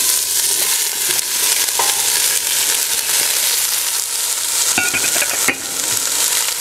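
Onions, carrots and garlic sweat in olive oil in a pan, giving a loud, continuous close sizzle broken now and then by stirring scrapes.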